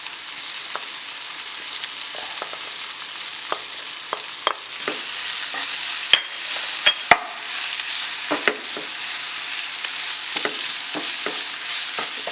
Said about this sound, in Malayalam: മസാലയുടെ പച്ചമണവും പച്ചച്ചൊവയും ഒന്ന് മാറുന്നോളം വരെ ഇളക്കി കൊടുക്കാം.